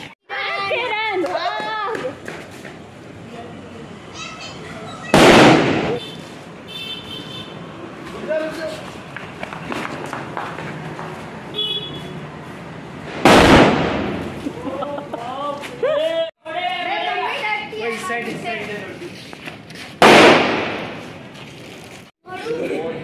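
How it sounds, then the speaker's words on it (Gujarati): Children set off Diwali firecrackers in Ahmedabad, with three loud, sharp bangs spaced several seconds apart amid continuous children's chatter and nearby voices. "બધા છોકરા ફોડે છે અત્યારે ફટાકડા"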